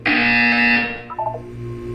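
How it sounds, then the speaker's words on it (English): A loud electronic buzzer in Portal 2 blares for nearly a second, then cuts off, followed by a few short tonal blips and a quiet hum. "You will hear a buzzer."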